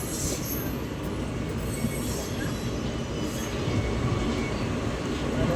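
A train rolls past Matunga station in Mumbai with a continuous loud rumble and wheel clatter, steady throughout and slightly rising toward the end.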